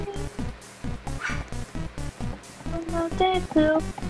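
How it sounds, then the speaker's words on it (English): Vicious dogs in a video game bark and yip in quick repeated bursts, loud and close, with some whimpering and rising tonal yelps toward the end, heard alone without talk. "the dogs are attacking me"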